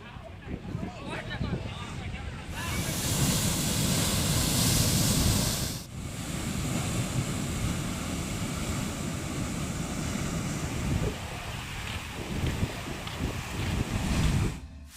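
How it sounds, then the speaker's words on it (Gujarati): High, rough sea at Dwarka on the Arabian Sea, waves roaring continuously and loudly with heavy wind buffeting the microphone, a brief dip near six seconds, no one talking. "15 થી 20 ફૂટ ઊંચા મોજા ઉછળી રહ્યા છે।"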